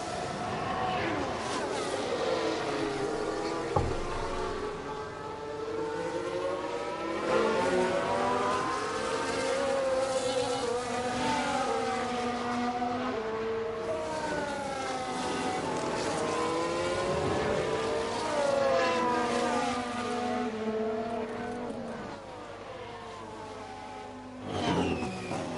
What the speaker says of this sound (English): I can hear the growl of the safety car there